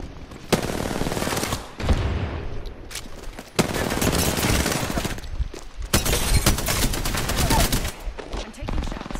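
Rapid automatic gunfire rattles in long bursts in a battle-royale style shooter game, loud and close, with short pauses between volleys and occasional voices underneath.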